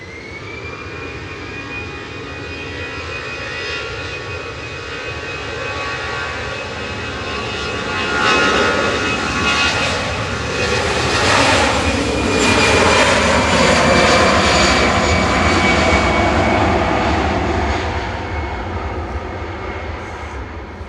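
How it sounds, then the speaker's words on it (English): EasyJet Airbus A319, fifteen years old, departing Manchester Airport for Milan: a loud, sustained jet engine roar with a steady whine, swelling to a peak through the middle and holding strong to the end, no voices. "It's a 15-year-old A319 departing to Milan there for EasyJet"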